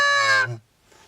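A goose call blown by a hunter gives one loud, reedy, nasal moan about half a second long, dropping off abruptly into near silence.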